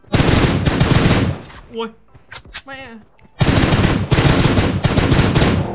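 Rapid loud automatic gunfire in PUBG Mobile, long sustained bursts at the start and end with a short pause in between where a voice exclaims.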